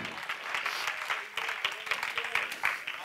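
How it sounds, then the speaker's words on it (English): Congregation in a church service clapping hands in praise to the Lord, a fairly faint, uneven burst of applause with voices mixed in and small swells of louder claps. "Give the Lord a hand clap of praise."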